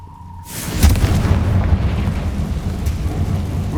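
Fire spell explosions in the Hogwarts Legacy video game: a loud, booming blast bursts in after a brief quiet lead-in, then rolls on as a dense, rumbling roar that continues to the end.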